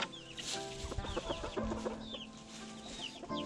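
Chickens cluck at a coop door in a close, quiet run of soft repeated calls and short squawks, with no voices.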